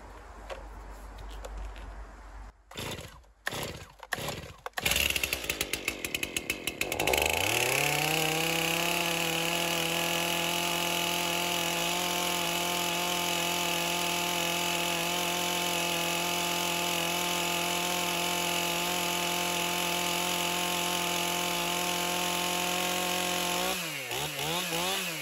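A few sharp pull-cord tugs and sputters, then a cold Stihl chainsaw engine catches and runs at a steady, loud idle before the revs shift near the end.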